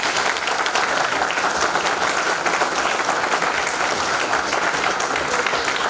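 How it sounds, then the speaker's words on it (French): An audience applauds steadily and loudly at a formal New Year's address to village chiefs and youth associations, a dense wash of clapping with a brief spoken phrase underneath. "nous puissions tous lui dire un grand merci avec un banc d'applaudissements"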